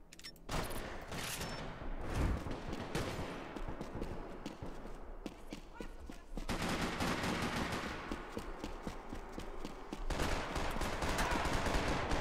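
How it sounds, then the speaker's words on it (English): Sustained bursts of gunfire fill a Max Payne 3 multiplayer deathmatch, with dense rapid shots that pause briefly around six seconds and then resume just as loud, continuing steadily to the end. "Who's shooting me?"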